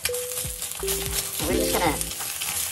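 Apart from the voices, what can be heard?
egg frying in a pan, handled with a spatula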